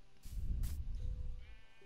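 Sheep in the Minecraft video game bleat in a short burst of overlapping calls, a fairly loud wavering cry followed by fainter game sounds as it tails off.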